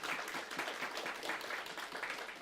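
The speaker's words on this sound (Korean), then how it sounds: "우리 다니엘이 더 행복해질 수 있도록 박수 한번 주네요" Congregation applauding a church drummer during a Sunday worship service, a steady wash of soft, fairly distant clapping from many hands sustained throughout.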